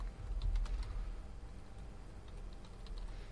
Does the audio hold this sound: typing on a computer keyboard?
yes